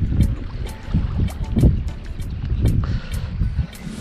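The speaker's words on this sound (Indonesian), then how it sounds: "Cuma ada angin sedikit. Angin siang lah, angin pantai." Light midday coastal wind blows over a small fishing boat on calm water at a shallow reef, giving a steady rumble with soft gusts and faint splashes or knocks.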